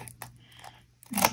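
Scissors snip a eucalyptus stem close up, with faint quiet handling before a single crisp cut near the end.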